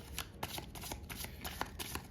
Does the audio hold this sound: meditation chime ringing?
no